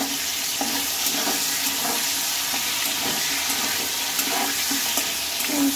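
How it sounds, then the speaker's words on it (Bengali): Fish heads frying in hot oil, a continuous loud hissing sizzle with faint crackles and no voices. "এখন এটা আমি ভেজে নেব ভালো করে, লাল লাল করে।"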